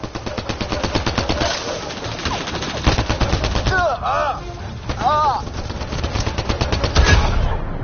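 Rapid gunfire from the Mass Effect video game, sustained bursts of automatic shots running throughout over a busy battle mix, with brief electronic weapon whines and a voice speaking in the middle.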